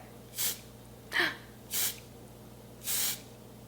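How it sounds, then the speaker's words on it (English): Four short hissing bursts from an aerosol highlighter spray can, separated by brief pauses, close and fairly soft against a quiet background hum. "I've never used an aerosol highlight. So let's block my baby hairs and just spray this."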